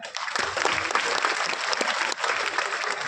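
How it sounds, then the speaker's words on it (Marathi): An audience at a Mukhyamantri Samruddh Panchayat Raj campaign event claps loudly and continuously, a dense close wall of applause that barely dips once before carrying on. "त्यांच्यासाठी टाळ्या झाल्या पाहिजेत."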